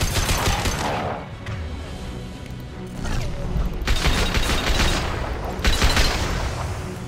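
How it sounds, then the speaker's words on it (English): A Colossus geth walker fires repeated heavy shots in Mass Effect 2 on Haestrom, coming as loud booming bursts separated by brief lulls, with no talk over them. "So yeah, Colossus will keep shooting at you."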